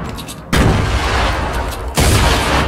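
A grenade detonates in Fortnite during a close-range firefight. Two sudden, loud blasts land about a second and a half apart, and each is followed by a heavy rumbling tail. No one speaks.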